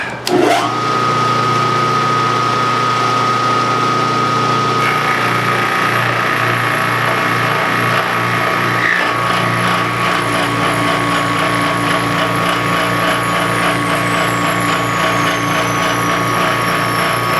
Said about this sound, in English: So now I got to mill this back, not out yet.